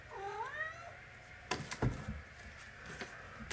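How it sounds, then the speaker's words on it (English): A cat indoors in an apartment on a snowy day gives one clear, wavering meow at the start, followed by close bumps and rustling handling noise. "There's my cat."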